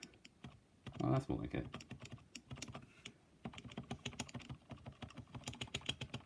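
Keystrokes on a Filco Majestouch 2 TKL keyboard with MX Silent Red switches clatter in quick irregular bursts, a heavier spacebar-like thump near the start, while a voice speaks briefly over the soft typing.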